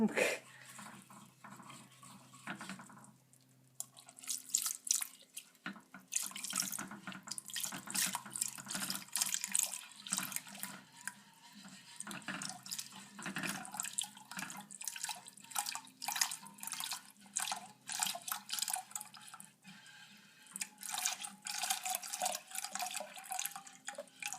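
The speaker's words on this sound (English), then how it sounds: "I'm going to whisk while my mom pours this" Liquid poured into a mixture being whisked for pastitsio, heard as a steady splashing, trickling stream with the clatter of a whisk against the bowl. It is close and runs continuously, and people talk now and then.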